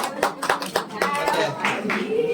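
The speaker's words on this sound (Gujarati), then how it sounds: "જોરદાર તાળી પાડો" A crowd at a thanksgiving gathering for a newborn baby boy breaks into a short burst of uneven hand clapping, with voices mixed in around the claps.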